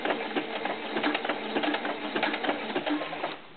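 A sewing machine stitches the neckline of a doll's knit tank top, with fast, rhythmic needle clatter running steadily for about three seconds before stopping, close and fairly quiet.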